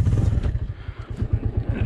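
Motorcycle labouring along a rough off-road mountain track in Kashmir, its engine thumping in a steady close rhythm with rattling clatter throughout.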